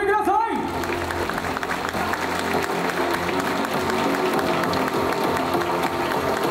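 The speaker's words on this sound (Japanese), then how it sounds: "さあ皆さん大きな拍手をお送りください。" A crowd at a Tokyo bodybuilding competition breaks into loud, sustained applause mixed with cheering, rising over music and an announcer's voice at the start.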